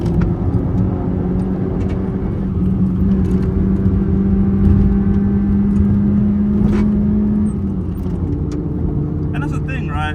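A modified Honda Jazz (Fit) hatchback carves through twisty corners, its engine note holding a steady mid-range drone before dropping pitch on a downshift near the end, heard from inside the cabin with a voice talking over it.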